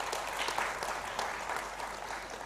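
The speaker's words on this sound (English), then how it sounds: "Can we have a round of applause for yourself?" An audience at a youth environmental conclave and award ceremony claps steadily throughout, a dense and fairly close wash of many hands that never lets up.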